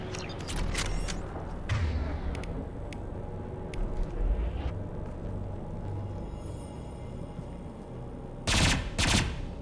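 Weapons fire in the video game Mass Effect 2, on Haestrom: a continuous rattle of shots and thumps runs through the scene, with a couple of loud, sharp bursts near the end.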